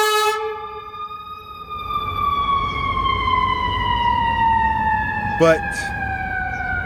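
Chicago city street ambience with a siren wailing across it, its long tone sliding slowly downward over steady traffic rumble, a brief horn-like burst near the end, and a voice speaking briefly at the start.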